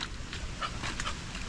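A dog named Tia makes short breathy panting or whimpering sounds close by in a home, brief bursts over a low background.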